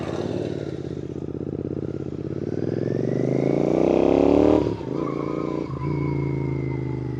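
A Royal Enfield GT650 twin fitted with an AEW aftermarket exhaust revs up close by, its throaty rumble climbing steadily before dropping back to a lumpy idle with a couple of brief blips.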